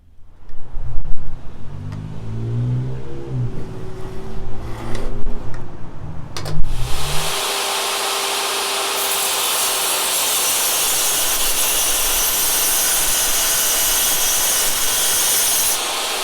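A portable bandsaw cuts through metal, starting with a rough grinding rumble and a few knocks, then settling into a loud, steady high hiss of the running blade that continues to the end.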